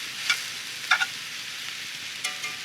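Meat and vegetables are stirred in a cast iron skillet, with a steady sizzle and frying hiss throughout and a few scraping clinks of the utensil against the pan.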